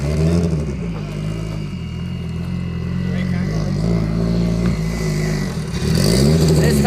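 A racing car engine revving hard and droning close by during hot laps, with a sustained rise in pitch toward the end, under steady commentary from someone talking over it.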